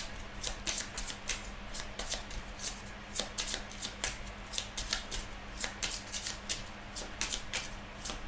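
A deck of Lenormand oracle cards is handled and cut, giving rapid close riffling and crisp card snaps in a steady run of quick bursts, with no voice.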